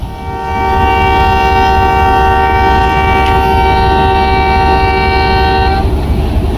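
A loud, sustained train whistle sounds at Rawalpindi railway station, holding one steady tone for about five seconds over rumbling platform noise before cutting off.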